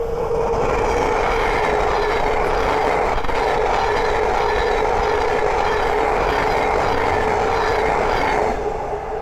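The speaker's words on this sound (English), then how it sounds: "the next train to pass by is a Thameslink 700 from Brighton to Cambridge" A Thameslink Class 700 electric multiple unit running from Brighton to Cambridge passes at speed on the East Coast Main Line at Great Wymondley, giving a loud, steady roar and rush that holds near and constant throughout.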